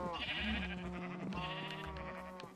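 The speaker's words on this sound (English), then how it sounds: "Oh, my poor sheep have been in water this whole time." Sheep in Minecraft on Xbox One, standing in water, bleat in a continuous overlapping chorus of wavering, nasal calls, close and steady at low overall level.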